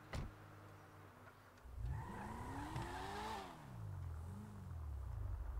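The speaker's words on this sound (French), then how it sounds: "On va poser la voiture. On va se garer." A car in the GTA video game pulls in to park, its engine pitch swooping up and down as it slows and maneuvers, with a brief squeal of tires.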